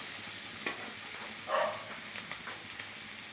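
Fish curry ingredients fry in a pan with a soft, steady sizzle, broken by a few brief stirring scrapes and clinks, one louder around the middle.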